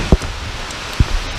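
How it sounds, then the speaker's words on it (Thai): Heavy rain pours down as a steady, loud broadband hiss, with two brief thumps standing out over the downpour. "ตอนนี้ฝนตกแล้ว"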